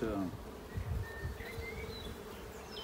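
Honey bees buzz at a beehive in a soft, continuous drone with individual insects passing close, and a brief voice is heard at the start.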